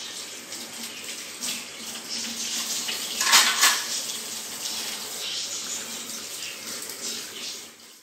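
Dishes are washed under a running tap in a village home, with steady water flow and occasional clinks of pots and cutlery, close and continuous.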